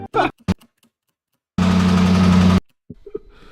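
A noisy car engine in need of a full rebuild runs for about a second in a loud, buzzing, rough burst, set between brief clicks and short bits of handling noise.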